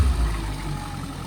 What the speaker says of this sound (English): Give it a couple of revs.